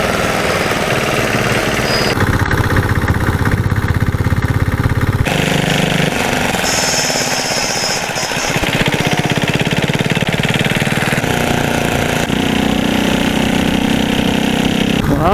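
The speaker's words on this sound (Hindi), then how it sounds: "ये जा रहे हैं ट्रैक्टर।" Tractors driving by on a road between Karnal and Shamli, a loud continuous diesel engine chugging whose tone shifts every few seconds as vehicles pass close.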